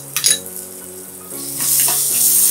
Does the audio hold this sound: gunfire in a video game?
no